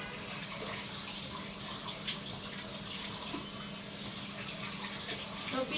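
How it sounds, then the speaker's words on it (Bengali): Tap water runs steadily into a sink while chicken is washed in a home kitchen, a constant faint hissing gush with small splashes, no voices. "ওদিক দিয়ে ভাবি চিকেন গুলো ধুয়ে নিতেছে"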